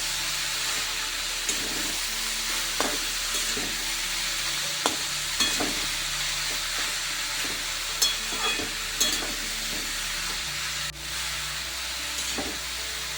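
Cabbage and spices stirred and sizzling in a wok for a Bengali cabbage chorchori, a steady fry hiss broken by repeated scraping strokes of the spoon, close and alone with no talk.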